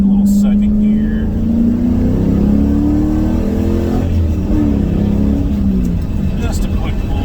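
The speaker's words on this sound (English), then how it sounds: "I guess we could do one more quick pull here, folks. A little second gear." A 1983 Pontiac Firebird SE with a 5.7-liter LS1 V8 and T56 six-speed pulls hard in second gear, its engine note rising steadily and loud from inside the cabin, continuous throughout with the pitch sweeping upward.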